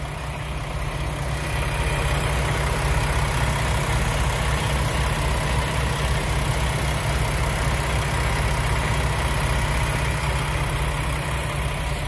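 A 2021 Peterbilt 579 Ultraloft truck's diesel engine idles up close, a loud, steady, deep rumble with a constant knocking pulse that holds evenly throughout with no talk.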